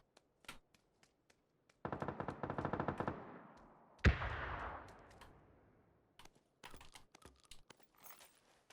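SMG gunfire in PUBG on Xbox Series X comes as a long, rapid automatic burst, then a sharp, louder shot that rings down. Scattered faint clicks and taps surround the firing.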